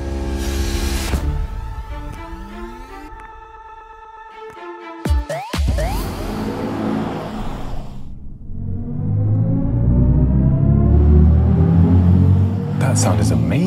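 Synthetic driving sound of a BMW i5 electric car in sport mode, a swelling, rising tone with a deep rumbling layer beneath, growing louder toward the end.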